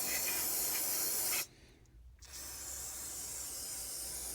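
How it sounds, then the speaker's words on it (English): Brake cleaner sprayed onto a Ford engine valve cover: a loud, steady aerosol hiss, close by, that cuts out briefly and then resumes as a continuous spray. "I'm just going to rinse it all off with some brake clean"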